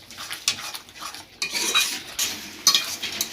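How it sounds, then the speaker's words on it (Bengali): Chicken masala is stir-fried in a pan over high heat: a spatula scrapes and clanks in repeated close strokes, with a light sizzle running underneath throughout. "পুরো জোর আঁচেই এই রান্নাটা এখন মশলাটা কষাতে হবে"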